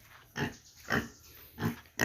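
Pigs on a pig farm grunt in short, low bursts, four close grunts spaced about half a second apart with a faint background hum.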